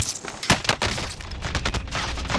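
Rapid bursts of gunfire crack through a Call of Duty Warzone battle, overlapping close shots and automatic volleys in quick irregular succession, loud and sharp throughout.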